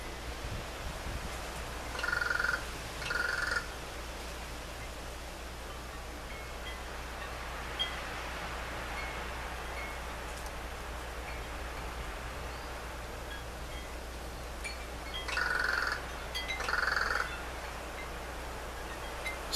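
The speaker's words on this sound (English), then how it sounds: "Kind of bird there, I'm not sure what kind. It's making that noise." An unidentified bird calls outdoors in two short paired bursts, several seconds apart and repeated later, over a steady wind-like background hiss.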